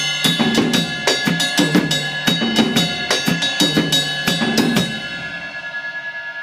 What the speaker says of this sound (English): So the 6/8 Afro-Cuban goes something like this.